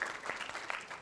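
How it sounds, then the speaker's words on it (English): An audience claps at a youth conference, a short burst of many hands applauding together at moderate loudness. "We're clapping, okay."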